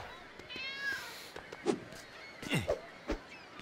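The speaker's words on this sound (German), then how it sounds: "Oh, hier ist eine Katze." A cat meows a few times in LEGO City Undercover, short faint calls over a low game ambience with scattered clicks.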